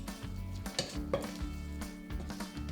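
Choux pastry dough is stirred in a pan over heat, giving close scraping and knocking with a light sizzle and several sharp clinks of a utensil against the pan, continuous for a few seconds with no talking.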